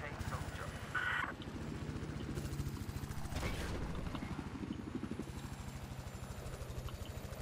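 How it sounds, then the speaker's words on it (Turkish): An arriving helicopter in Battlefield 4 on the Paracel Storm map gives a steady, rhythmic rotor chop throughout. Brief gunfire-like bursts and battle noise sound over it. "Aa, helikopter gelmiş."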